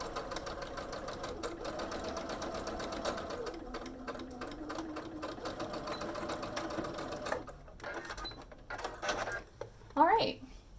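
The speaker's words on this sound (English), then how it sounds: "we're going to sew that at 3/8 of an inch. Again, remember to back stitch" A sewing machine stitches the seam of a fabric face mask at close range, a steady fast mechanical patter that breaks into shorter bursts toward the end, with a voice speaking over it.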